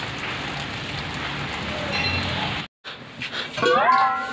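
Steady hiss of rain falling for a few seconds, a brief silent gap, then softer splashing with a few thin whistling tones.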